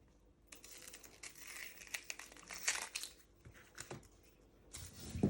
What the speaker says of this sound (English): you want to peel both layers of skin